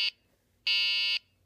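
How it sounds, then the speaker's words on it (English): Obstacle buzzer on an autonomous RC car that has stopped at a wall: a brief beep followed by a longer sustained tone about half a second long, shrill and close, with no talking. "will beep at you until you move it to somewhere where it isn't going to get stuck"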